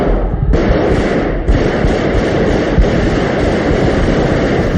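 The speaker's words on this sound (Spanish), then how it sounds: "Disparos." Gunshots in an archival broadcast of the 1981 Spanish coup attempt in the parliament chamber. A loud, rough, continuous roar of shots and noise is broken by a few sharper cracks.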